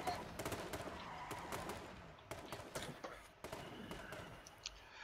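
Rapid gunfire in the H1Z1 video game, a dense run of sharp cracks and bursts scattered across the whole stretch at moderate volume.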